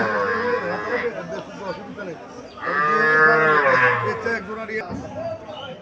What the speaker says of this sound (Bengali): বকনা বাছুর দেখা যাচ্ছে, লম্বা ছুরি আছে বাছুরটা, কালোটা লাল কালার বকনা বাছুর